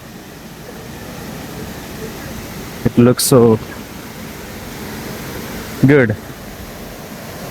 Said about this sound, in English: I came to visit Golden Waterfall in Taiwan.